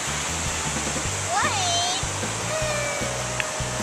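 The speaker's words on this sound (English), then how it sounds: "over there are the waterfalls that are right by our campsite" A waterfall right beside a campsite on a hike gives a steady, close, broadband rush of falling water, with people talking over it throughout.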